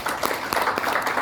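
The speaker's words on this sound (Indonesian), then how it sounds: "Sekali lagi tepuk tangan buat ini" Brief burst of audience applause in a hall after a speech by the East Kalimantan deputy governor, dense crackling claps at steady volume with no talk over it.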